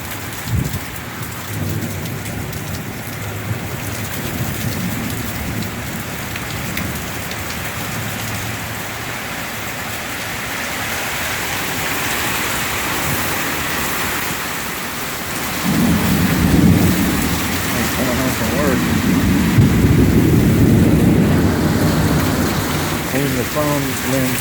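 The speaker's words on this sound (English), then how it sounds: "This some rain, a little bit of wind, a little bit of thunder, a little bit of lightning." Heavy rain pours steadily during a summer thunderstorm with some wind in Central Florida, with low rolls of thunder rumbling in the second half. The downpour stays loud and constant throughout.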